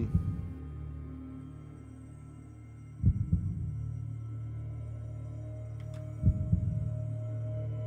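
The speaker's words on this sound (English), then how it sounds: "He's got a heartbeat." Deep, muffled heartbeat thumps of the Minecraft warden, three slow, booming pulses spaced about three seconds apart over a low droning hum.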